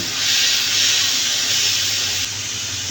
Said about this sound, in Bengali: তো এই যে আমি শাকটা ভালোভাবে ভেজে নিব তারপরে নামিয়ে নিব